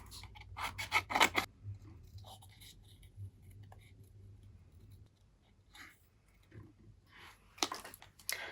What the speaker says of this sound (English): And now let's cut them.